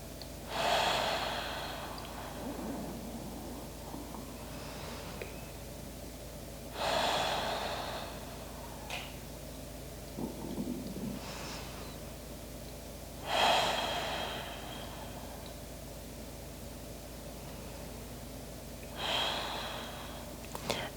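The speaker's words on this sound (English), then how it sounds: "Five more full, slow breaths." Slow, deep breaths during a yoga practice, four long audible inhale-exhale cycles spaced several seconds apart, close and clear over a quiet background hum, with no talking.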